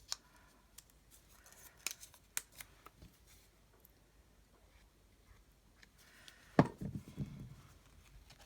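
Scissors snip through thin vellum sheet in a series of sharp, quiet cuts, followed by a crinkly rustle of handled paper.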